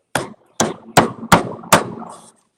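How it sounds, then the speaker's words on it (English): A 19-ounce framing hammer delivers five sharp, evenly spaced blows, about 0.4 seconds apart, close-up and with no other sound. "I'll show you with this is a 19-ounce framing hammer."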